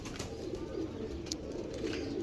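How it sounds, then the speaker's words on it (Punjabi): Soft pigeon cooing from a breeder's pigeon, a steady low murmuring coo that runs through the whole short stretch at moderate distance, with no talk over it. "ਇਹ ਚੈੱਕ ਕਰੋ ਇਹ ਕਬੂਤਰ ਜਨਾਬ"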